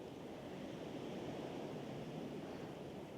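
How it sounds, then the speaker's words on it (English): Steady outdoor wind in Lapland, Finland, a continuous, even broadband rush that holds at one level throughout, with no voices and no distinct events. "You can just hear the wind and the birds."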